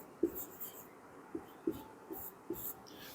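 Faint scratching of a pen or marker writing out a question during a chemistry lecture, a series of short soft strokes in an uneven rhythm against a quiet room.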